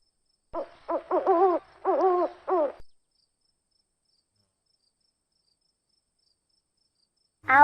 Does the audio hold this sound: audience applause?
no